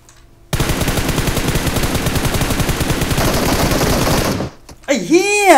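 Rapid automatic gunfire in the PUBG Mobile video game rattles loud and close in a dense, continuous burst for about four seconds, then stops, followed by brief whooshing game effects.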